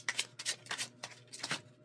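Tarot cards are shuffled by hand in quick, crisp riffling bursts, roughly six soft flutters in under two seconds, close and fairly quiet, with no voice.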